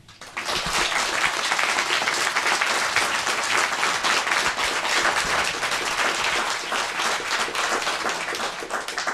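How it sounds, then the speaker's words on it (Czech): Sustained applause from an audience welcoming a cimbalom folk band, dense steady clapping that swells in within the first second and holds evenly for the rest. "Takže přivítejte prosím potleskem Májek"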